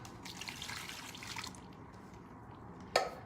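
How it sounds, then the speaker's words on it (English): Beef broth poured into a freezer meal, a soft trickling, splashing flow that fades out, followed by a single sharp knock near the end. "You're gonna put in 2 cups of beef broth"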